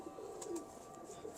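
A pigeon coos faintly nearby, soft rounded calls sounding over a low background hum.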